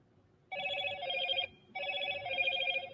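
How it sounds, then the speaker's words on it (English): A telephone bell rings in two repeated electronic bursts, fairly loud and near, with a brief pause between them, inside a courtroom during a livestreamed hearing; no talk over it. "Do y'all hear my phone?"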